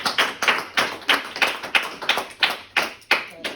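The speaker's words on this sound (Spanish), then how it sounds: "Den un aplauso a Cristo" Rhythmic group clapping in a church service, claps for Christ landing in a steady, fairly even beat for a few seconds, close and moderately loud with no talk over them.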